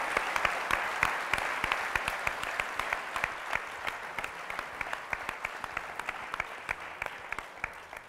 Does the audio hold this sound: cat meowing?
no